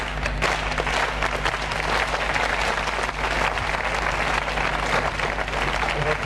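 Television studio audience applauding Raymond Poulidor on a French evening variety show: sustained, loud, dense clapping from a large crowd, continuous for the whole stretch.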